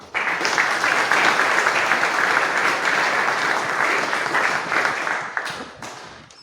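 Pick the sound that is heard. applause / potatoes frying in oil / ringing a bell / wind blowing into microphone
applause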